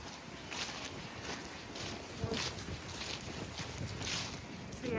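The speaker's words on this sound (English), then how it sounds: "It's windier up here than it is on the beach." Strong wind gusts over a cliff-top path at Filey, roaring steadily and buffeting the microphone in uneven surges.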